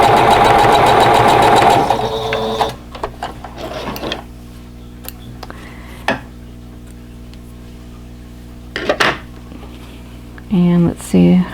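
A sewing machine stitching a quilt block whirs loudly for a couple of seconds, then stops. Scattered light clicks and handling noises follow, along with a short voiced sound near the end.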